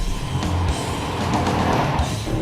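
A Mercedes-Benz GL 63 AMG's V8 engine revs hard under acceleration, a loud, steady, busy roar filling the cabin without a break and with no talking.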